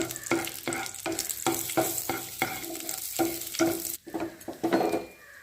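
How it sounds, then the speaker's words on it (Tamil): Cashews and raisins fry in ghee in a pan, giving a steady close sizzle cut by a quick, rhythmic series of stirring strokes, with no talking. "அதுக்கு கொஞ்சம் முந்திரி பருப்பு வறுத்துக்கலாம்."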